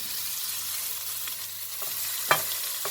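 Chicken with ginger-garlic paste frying in a pan before tomatoes go in, a steady soft sizzle with a few light stirring clicks and one sharper utensil tap.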